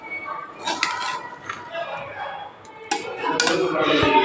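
A metal lid clinks onto an idli pot sitting on a kitchen stove, giving a few light metallic knocks and scrapes over a soft background hiss, while someone talks.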